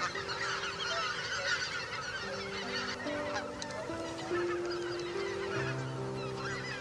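Geese honking at a river wildlife preserve in Thornton, California, a flock calling in overlapping nasal honks at moderate distance, steady and continuous with no talk.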